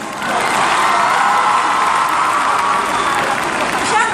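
Audience applause and cheering at the MMVA 2014 music awards ceremony, a dense, loud, steady roar of clapping mixed with crowd noise that swells in quickly and holds for several seconds.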